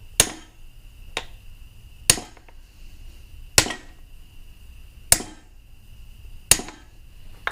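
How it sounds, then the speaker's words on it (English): A small hammer taps a fiberglass bushing into place on a Ditch Witch, six sharp metallic strikes spaced about a second apart, close and clear over a quiet background. "just get your little hammer here and just kind of tap it in there"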